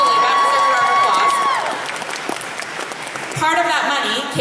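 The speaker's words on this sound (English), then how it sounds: "That deserves a round of applause." Audience applause and light cheering at the Animethon 2024 opening ceremony, a few seconds of crowd clapping with a speaker's amplified voice over it that fades, then swells again.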